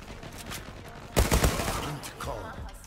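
The Fateh gun in the shooter game Zula, fired in a short rapid burst of several close, punchy shots after a quieter stretch, with faint game noise around it.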